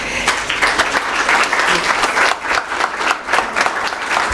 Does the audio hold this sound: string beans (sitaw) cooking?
no